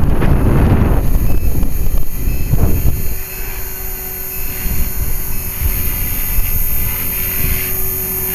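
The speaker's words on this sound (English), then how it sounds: "That wind's wicked." Strong outdoor wind buffets the microphone with a loud, rumbling roar that is heaviest in the first few seconds, then continues as gusty blowing over a steady high whine, with no talking.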